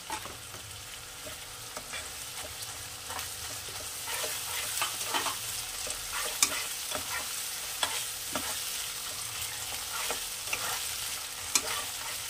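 Cumin paste frying in a pan for a Bengali snakehead fish curry gives a steady, close hiss and sizzle, broken by frequent scraping stirs throughout.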